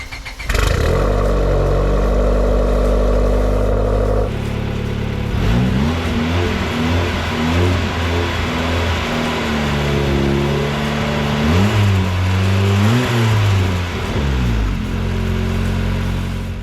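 A turbocharged Honda Civic with a heat-wrapped exhaust cranks and fires up close, then settles into a loud, rough idle broken by repeated throttle blips and revs.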